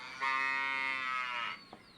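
A dairy cow moos once, a long, loud, steady harmonic call lasting over a second close by, followed by a brief faint knock.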